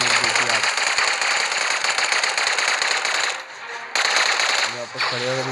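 Rapid automatic gunfire from the spaceship game N.O.V.A.L Legacy rattles loud and continuous, breaks off briefly near the end, then bursts again.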